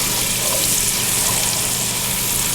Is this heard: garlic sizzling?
yes